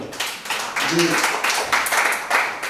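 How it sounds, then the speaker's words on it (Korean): A seminar audience at a Korean unification policy forum claps in a short burst of scattered hand claps, moderately close, with a voice briefly speaking over it. "박수 한번 쳐주시죠."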